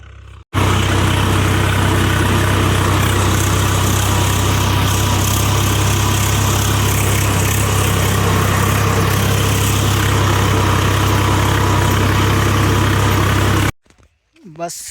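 A tractor engine runs steadily in a dusty field, a loud continuous close-up drone with a deep low rumble that holds for about thirteen seconds before cutting off.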